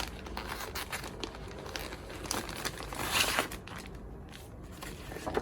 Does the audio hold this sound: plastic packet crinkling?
yes